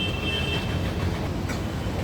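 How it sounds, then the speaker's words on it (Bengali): Steady rolling rumble and rattle of a long line of luggage trolleys pushed along together, with a faint high squeal near the start, fairly close and continuous. "অনেক লম্বা করে ট্রলি নিয়ে যাচ্ছে, ধাক্কায় ধাক্কায়।"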